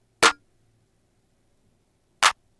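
Two dry, punchy snare drum hits without effects, from stock FL Studio drums, about two seconds apart, each short and sharp with silence between them.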